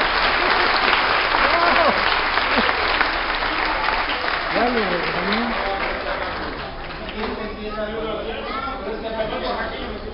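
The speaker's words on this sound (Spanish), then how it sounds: "aplauso" Steady audience applause at a medieval minstrel music performance in Mexico City, broad and sustained across the whole stretch, with whistle-like tones and some chatter mixed in toward the end.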